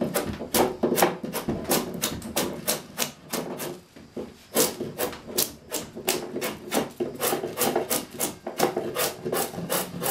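Hand-carving a wooden chair seat with a scorp: a steady series of close, crisp scraping cuts in a quick uneven rhythm, each stroke a short rasp of steel shaving wood, with brief pauses between bursts.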